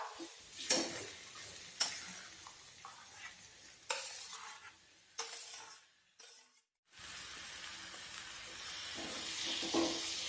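Mashed eggplant mixture for vangyache bharit being stirred and fried in a pan: steady sizzling with repeated scraping strokes of a utensil, a brief pause in the middle, then more frying hiss.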